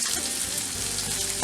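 Sesame oil sizzles steadily in a pan for pork fried rice, a close, continuous hiss with a brief clatter at the end.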